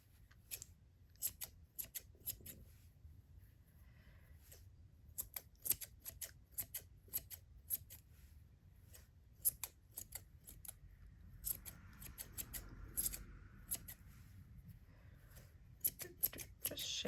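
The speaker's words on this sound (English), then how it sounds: "And then I'm going to take my scissors" Scissors trimming a multicolored yarn pom pom, a long run of quiet close snips in an irregular rhythm with soft rustling of yarn between cuts.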